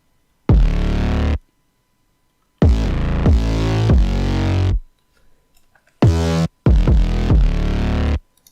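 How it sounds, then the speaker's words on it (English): Main 808 bass for a beat: deep booming notes played in three phrases, separated by silences, loud and dry, heard alone. "So this is the main 808."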